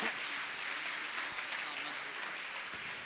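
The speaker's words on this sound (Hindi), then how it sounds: "जोरदार ताली बजाकर इनका अभिवादन करें।" Audience applause at a Jain spiritual gathering honouring a visiting monk, a moderately faint, steady wash of clapping lasting about three seconds with a few sharper claps standing out.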